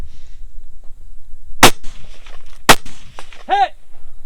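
Gunshots on a shooting competition stage outdoors, two sharp, loud single shots about a second apart, followed by faint clanks and a brief voice.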